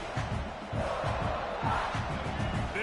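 A stadium crowd roars at a Michigan versus South Carolina college football game, a steady, distant wash of massed voices with faint thumps underneath.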